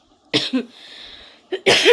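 Two close bursts of coughing, a pause with faint hiss, then two more harsh coughs, loud and near.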